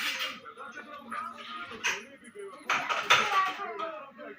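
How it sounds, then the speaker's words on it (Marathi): Dishes, pots and pans being washed by hand in a home kitchen, with clinks and clatter of metal utensils under ongoing talk, a few sharper knocks standing out. "आता इकडे भांडे धुवायचं काम चालू आहे इथे"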